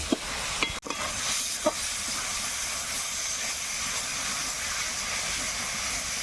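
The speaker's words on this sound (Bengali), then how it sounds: "লবণ হলুদ দিয়ে আর একটু আমি কষিয়ে নেব" Prawn curry masala with salt and turmeric frying in a pot, a steady loud hiss and sizzle running throughout with a couple of brief clinks near the start.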